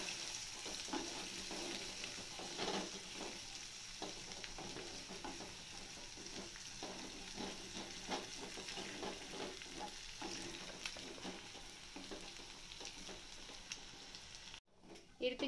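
Beaten egg mixture for egg Maggi sizzling and frying in a pan while being stirred, a steady soft crackle with scraping strokes throughout.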